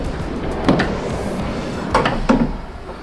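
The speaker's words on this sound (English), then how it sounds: "So you get this beautiful sliding door that's so easy to use." Sliding side door of a Force Urbania van operated, giving a soft thud followed later by two quick clunks as it slides and latches, close and fairly loud, with no talking.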